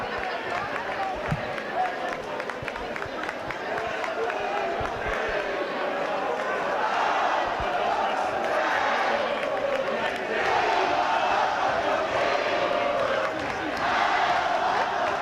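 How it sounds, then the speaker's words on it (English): A packed gym crowd roars steadily at a high school boys basketball title game between Bishop Shanahan and Coatesville, a dense, continuous wall of cheering with an announcer talking over it. "And the crowd roars its approval."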